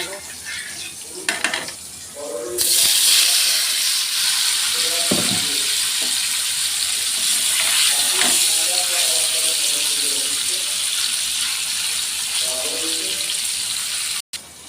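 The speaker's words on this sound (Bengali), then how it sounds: "পনিরের জন্য তেল গরম হয়ে গেছে এবার পনিরগুলো ভেজে" Paneer dropped into hot oil, bursting into a loud, dense, close sizzle that continues steadily, with a few utensil knocks and a person talking intermittently over the frying.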